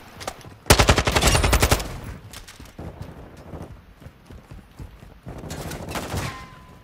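Rapid automatic gunfire in Modern Warfare 2 on the El Asilo map, with a loud sustained burst early on, then scattered shots and a second burst, close and alone without talk.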